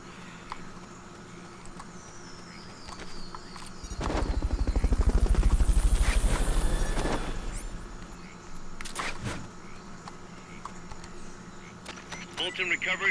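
Helicopter rotor thumping in Metal Gear Solid Peace Walker swells up loud and fast for a few seconds during a Fulton recovery, then fades away, amid game sound effects and background noise.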